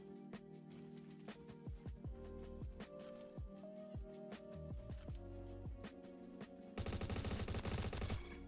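Rapid gunfire in the Roblox shooter Bad Business, with repeated close shots and a burst of sustained automatic fire near the end, layered over busy game sounds and music.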